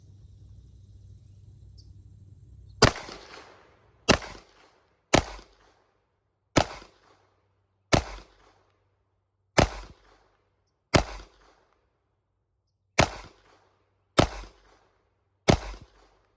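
Ten sharp, loud shots from a SIG Sauer P320 XTEN 10mm pistol fire at uneven intervals, each a crisp crack with a short outdoor echo.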